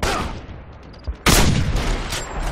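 Gunfire in a Wolfenstein battle, a loud burst breaking in after a quieter stretch of distant combat noise, dense and close, continuing to the end without talk.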